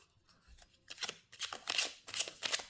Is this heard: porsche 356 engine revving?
no